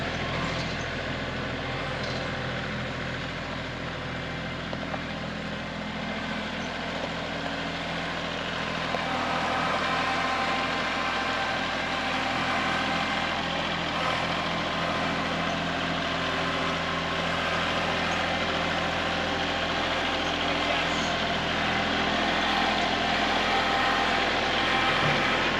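A tractor drives across a newly built driveway bridge, its engine giving a steady, loud, low rumble that holds throughout with little change.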